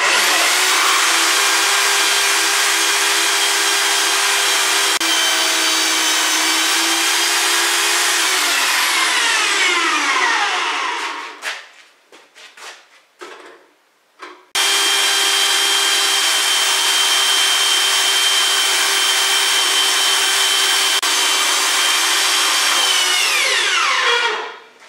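A power saw cuts a wooden piece for a lathe tool rest in a workshop, a loud continuous whining rasp that runs about ten seconds. It stops with a few brief clunks, then a second long cut follows and winds down at the end.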